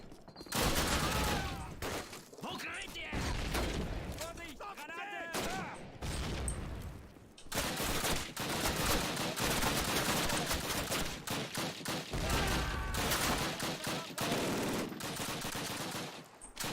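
Dense gunfire in a Call of Duty battle, with rapid bursts, repeated heavy shots and near-continuous firing over loud battle noise, including anti-tank rifle fire at a tank, with voices in the mix.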